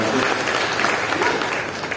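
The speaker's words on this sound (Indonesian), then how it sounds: "Boleh berikan tepuk tangan sekali lagi yang paling meriah." Church congregation applauding at a Good Friday service, a steady dense wash of clapping filling the room for about two seconds without pause.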